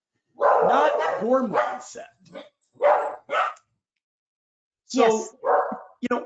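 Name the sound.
dogs barking outside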